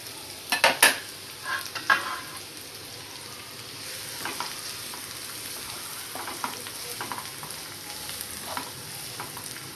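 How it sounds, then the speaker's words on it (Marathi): Chopped onion sautés in two tablespoons of hot oil in a pan for chicken sukka. Early on there are several loud close stirring scrapes, then a steady low sizzle continues with occasional soft clatters. "तेल आपलं गरम झालेलं आहे. त्यामध्ये मी आता कांदा परतणार आहे."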